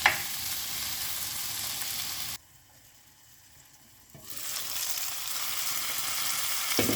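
Eggplant frying and being stirred in a pan, a steady loud sizzle that cuts out for about two seconds midway, then returns just as strongly.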